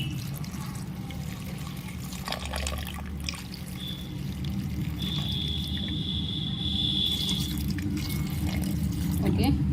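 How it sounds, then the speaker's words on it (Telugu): Water trickles and pours into a pressure cooker of lentils with tomatoes, green chillies and turmeric, a soft running splash under someone speaking nearby. "కొంచెం వాటర్ యాడ్ చేసుకుందాం"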